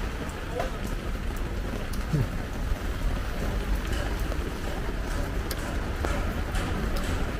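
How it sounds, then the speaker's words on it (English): Rain falls outdoors in an Istanbul street near a mall, a steady broadband hiss with scattered taps and splashes, and faint voices in the background. "it's raining outside right now."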